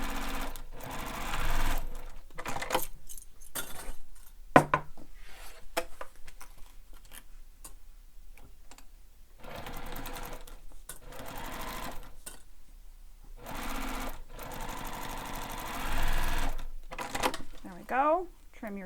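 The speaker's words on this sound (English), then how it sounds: "So now I'm going to sew this with the seam allowance given in the pattern." Domestic sewing machine stitching a bag seam in short runs, its rapid mechanical whir starting and stopping repeatedly with brief pauses between, heard close and fairly quiet.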